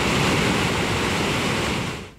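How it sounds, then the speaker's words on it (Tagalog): Rushing floodwater pours through Binday Dam in San Fabian, Pangasinan, during monsoon rains, a loud, steady, broadband roar that fills the clip before cutting off at the end. "nakuha ni Melanie Nagrampa Valel, makikita ang rumaragasang tubig sa Binday Dam sa San Fabian, Pangasinan kaninang umaga."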